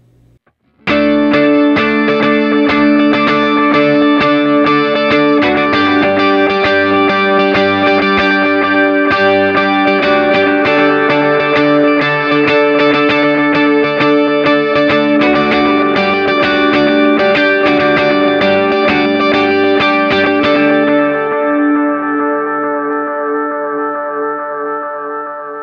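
A sustained electric guitar played through a Kemper L3 profile with a dotted-eighth delay styled after a Memory Man rings loud and dense with chorus-like shimmer and echoing repeats before it slowly fades.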